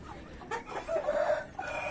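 A young rooster, newly added to a poultry flock, gives a few close, throaty clucks in short uneven bursts with brief pauses, heard alone.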